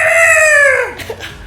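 A beatboxer's voice imitates a turkey, giving a loud, bright gobbling cry that bends downward and breaks off, followed by faint low sounds.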